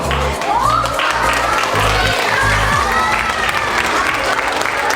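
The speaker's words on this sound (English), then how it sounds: "Let's give them one more big round of applause." Welcome-home crowd applauding and cheering a returning Navy Chief, a steady wash of clapping and voices held at constant loudness with low rumbling underneath.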